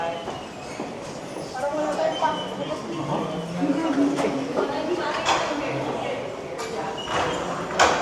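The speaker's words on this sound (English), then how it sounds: "And Bloor-Yonge station here is the busiest subway station in the city." A subway train at Bloor-Yonge station in Toronto, the city's busiest, rumbles and clatters through the platform area amid crowd noise and nearby talking.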